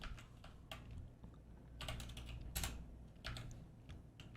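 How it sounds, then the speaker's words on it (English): Keys clatter on a computer keyboard in quick irregular bursts against a low steady hum, close and without speech. "I'm typing the wrong words"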